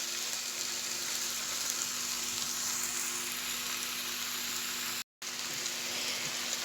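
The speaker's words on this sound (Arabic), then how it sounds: "هنقلب الفراخ على الناحية التانية علشان تاخد معانا" Chicken sears in a pan over a gas stove burner at home, a steady close sizzle of frying with no pause except one brief dropout near the end.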